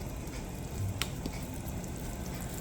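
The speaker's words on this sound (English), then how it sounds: "we're gonna let this breadfruit boil just as it is" Whole breadfruit boiling in a pot of water, a steady, quiet bubbling hiss that runs unbroken throughout, with one faint tick near the middle.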